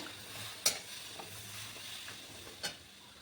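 Jaggery melting in a pan of water for sesame laddu gives a soft, steady simmering hiss with a couple of sharp utensil clinks; close and fairly quiet, with no voices.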